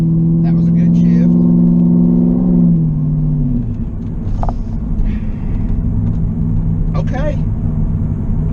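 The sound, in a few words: car driving with new RPM transmission shifting gears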